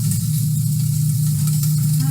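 Steady broadband sizzling of food frying in a pan, continuous and even throughout, with a low hum underneath and no voices.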